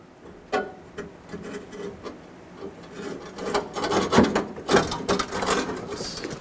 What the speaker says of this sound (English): Take the bumper and slide it back in position.